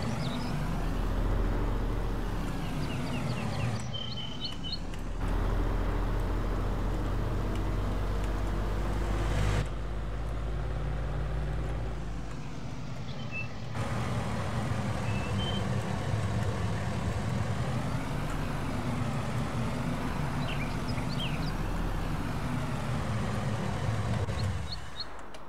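A tractor engine drones steadily with a seed drill while sowing barley in a field, a continuous loud low rumble with changing load and a few brief high tones.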